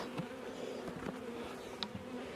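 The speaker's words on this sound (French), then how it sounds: "C'est bien une abeille, donc c'est pas bien grave." Honey bees buzz steadily near an open hive during an outdoor check of mating nuclei, a continuous close insect drone with a few sharper flicks of wings passing by.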